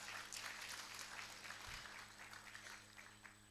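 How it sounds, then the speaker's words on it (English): Scattered audience applause during an awards recognition at a Kisii University innovation week gathering, steady and fairly distant, fading slightly toward the end with a brief low thump in the middle. "Let's clap for them as they clap."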